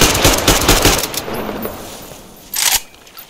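Rapid automatic gunfire rattles loudly in the Metro Exodus video game, a dense burst lasting about a second before fading into a reverberant tail, followed by another short sharp burst.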